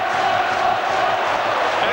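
A stadium crowd at a 2009 Warrington versus Wigan rugby league match roaring and cheering, a loud, sustained wall of distant voices beneath commentators talking.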